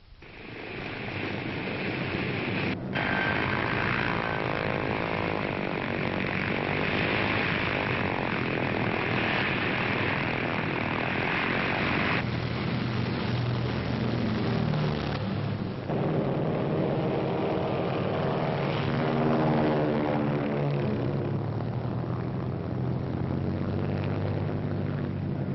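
Propeller-driven military aircraft fly overhead, a loud continuous multi-engine drone with shifting pitch as they pass, recorded on older narrow-band audio with no voices.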